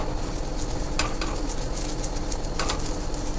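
Onion rubbed with oil across a hot dosa pan sizzles steadily and loudly, with short scraping bursts as it is pushed over the surface, no voices.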